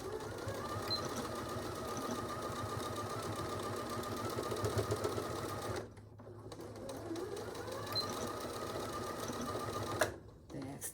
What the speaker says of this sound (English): All right, let's sew.